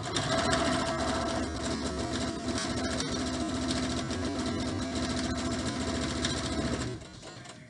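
A sewing machine stitching a cloth face mask with ties, running continuously at a steady fast whir for about seven seconds before stopping, loud and close with no talking.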